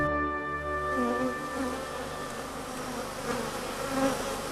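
A swarm of bees circles close around a person outdoors in rural Bashkortostan, their buzzing a dense, continuous drone with individual insects rising and passing near the microphone.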